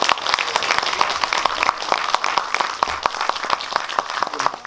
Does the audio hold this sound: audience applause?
yes